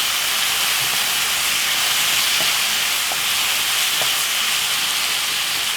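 Jerk-seasoned beef mince frying in a pan with a steady, even sizzle and hiss, faint scraping of stirring underneath.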